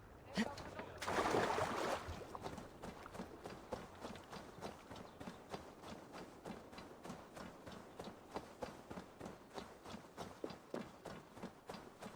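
Rhythmic hoof clip-clops of horses trot past steadily in the video game Assassin's Creed Valhalla, with a brief burst of noise near the start.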